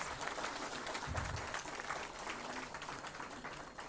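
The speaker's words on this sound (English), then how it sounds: "can we have a huge round of applause for all the officials and winners?" An audience applauds officials and winners at a ceremony, a steady, fairly faint and distant patter of many hands clapping without a break.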